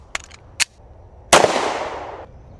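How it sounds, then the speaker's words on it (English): A single loud, close 9mm shot from a Glock 45 pistol fired at a tire, a sharp crack with a long decaying tail, after a couple of faint clicks. "This is coming out of our Glock 45."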